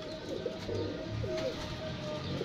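Pigeons coo softly and repeatedly at close range, low throaty calls over a steady background hum.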